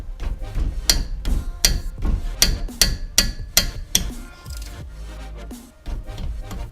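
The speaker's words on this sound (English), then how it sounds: "Got my 14 millimeter ratchet wrench in here." A 14 mm ratchet wrench loosens the front brake caliper bolts on a 2006 Toyota Highlander Hybrid, giving a close, irregular series of sharp metallic clicks and knocks that pauses briefly before resuming.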